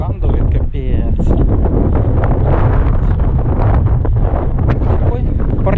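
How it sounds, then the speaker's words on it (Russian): Heavy wind hammers the mic outdoors at a small bayside park near El Cerrito, on the road to San Francisco, giving a loud, unbroken rumbling buffet that stays constant from start to finish. "как-то ветрюкан дует, капец"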